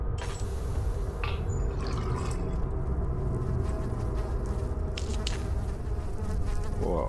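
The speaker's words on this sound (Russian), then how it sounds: "О, мухи-то откуда здесь?" A steady, close swarm of flies buzzes continuously in a dark room of the video game Amnesia: The Dark Descent, with no voices over it.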